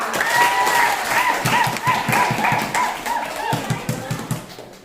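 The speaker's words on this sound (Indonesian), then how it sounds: "beri tepuk tangan dulu biar semangat" Students in a classroom clap in a lively burst that loosens into scattered, rhythmic claps, with young voices calling out over it.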